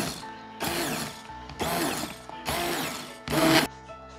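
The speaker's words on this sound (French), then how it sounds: "on va passer au mélangeur à main" A hand blender purees simmered carrot soup in four short whirring bursts of roughly half a second each, separated by brief pauses, loud and close with no talking.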